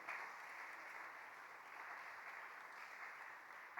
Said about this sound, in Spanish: Dele un aplauso al Señor porque Dios está aquí.